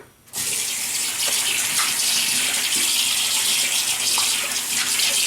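Steady tap water running into a sink to wet a razor for shaving, a continuous loud hiss that starts abruptly after a brief silent moment and flows without pause.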